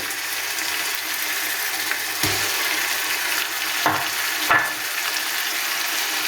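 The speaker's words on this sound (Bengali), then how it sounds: "মশলাগুলো দিয়ে আমি 2-3 মিনিট ভেজে নিয়েছি।" Spices sizzling in hot oil with mustard paste in a pan while preparing a sweet-sour-spicy mango pickle, a steady close crackle with a few scraping stirs of a spoon.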